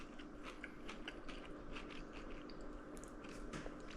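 A single close, crisp crunching bite into a fried spicy pickled tomato, with soft chewing and clicky mouth sounds right at the mic, no talk over it.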